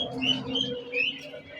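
Pigeons in a seller's collection, including jira-necked birds, coo and chirp close by in short soft calls over a low murmur, with no talking.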